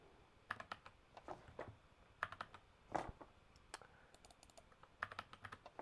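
A computer keyboard is typed on in quick irregular bursts, each key a soft close click, with short pauses between runs and steady faint background hiss.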